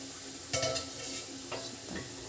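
Meal maker curry frying in oil in a pan, a soft continuous sizzle with a few brief stirring scrapes, fairly quiet and close.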